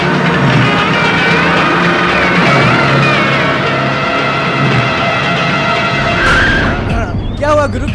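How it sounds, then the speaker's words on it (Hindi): A car skids to a halt on a road in a Hindi film, its tyres squealing loudly against steady engine noise and ending in a sharp burst of skidding at the stop, with voices over it. "क्या हुआ गुरु, गाड़ी क्यों रोक दी?"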